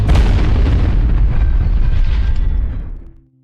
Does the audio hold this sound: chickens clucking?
no